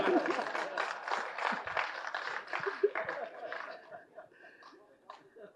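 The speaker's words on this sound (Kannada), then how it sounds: "ಚಪ್ಪಾಳೆ ಹೊಡೆಯೋಣ." An audience claps at a Kannada film launch event with director Prem, with applause and light laughter rising in scattered bursts under a nearby voice, then thinning out toward the end.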